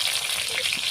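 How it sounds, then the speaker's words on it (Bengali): Dried red chili, bay leaf and panch phoron spice mix sizzle in hot oil while tempering dal, a brief bright hiss with no voices. "এখন ফোড়ন দেবো ডালের মধ্যে। তেল, শুকনো লঙ্কা ভেঙে, তেজপাতা আর পাঁচফোড়ন আছে।"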